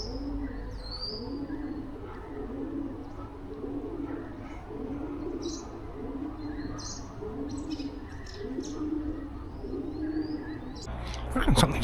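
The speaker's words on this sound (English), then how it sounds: "What it is, it's the pigeons under the bridge." Pigeons roosting under a bridge over the Ovens River coo in a low, steady repeating rhythm, with faint chirps and early-morning riverside ambience around them, ending in a brief louder rustle.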